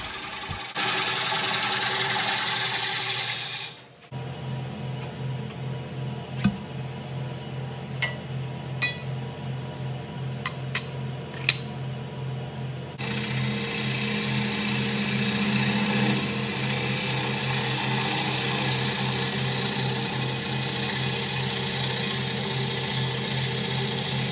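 Bench grinder running in a woodturning shop while a Vicmarc quick change tool handle is put through its paces, a steady motor drone with a short pause, sharp metallic clinks, then a louder continuous whir.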